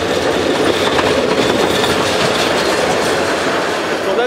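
A passenger train in Bangladesh rolls past close by, loud and continuous, its wheels clattering steadily on the rails.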